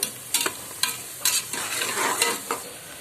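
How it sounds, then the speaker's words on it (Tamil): Ingredients for chicken biryani sauté in a pan, a constant sizzle punctuated by repeated scraping strokes of a stirring spoon every half second or so, close and clear with nobody talking. "இது நல்லா ஒரு பொன்னேரமாக வரணும் ஃப்ரெண்ட்ஸ் அது வரைக்கும் நல்லா வதங்கட்டுது"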